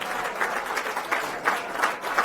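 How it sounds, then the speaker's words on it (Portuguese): Steady applause fills a parliamentary chamber as members clap for their neighbours during a session, a dense, even wash of many hands with small swells, moderately loud and without speech over it. "Estão a bater palmas sempre à pessoa que está ao lado."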